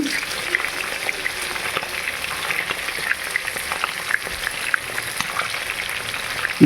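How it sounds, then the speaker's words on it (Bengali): Fish heads frying crisp in a pan for a home-style muri ghonto: a dense, continuous, close sizzle that holds evenly throughout with small pops. "একটু মাছের মাথাগুলো কড়া ভাজা না করলে বন্ধুরা ভালো লাগে না, ভালো করে কড়া করে ভাজা নিতে হবে।"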